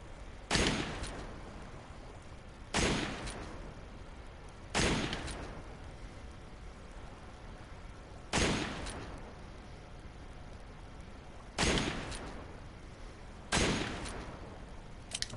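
Six loud, sharp revolver gunshots in the video game Resident Evil 5 ring out one at a time at irregular intervals of roughly two to three seconds, each followed by a short echoing decay.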